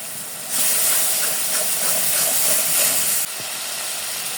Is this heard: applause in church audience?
no